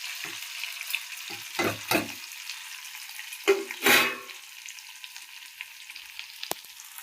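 Tempering spices and washed dried shrimp fry in hot oil for a gongura shrimp curry, giving a steady sizzle with several louder crackling bursts and stirring noises, no voices present.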